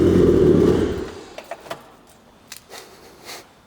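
Mazda Miata engine under rebuild, valve cover off and no coolant, fired up for about a second in a loud revving burst that cuts off abruptly, followed by faint clicks and ticks as it falls silent.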